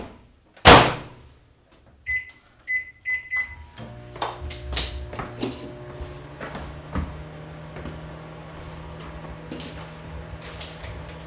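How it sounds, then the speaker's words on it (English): A sharp door clunk, then three short beeps, followed by a steady low hum of a microwave oven running while softening butter, with faint clicks and rattles. "I'm going to pop it in the microwave just for a couple of seconds just to soften it."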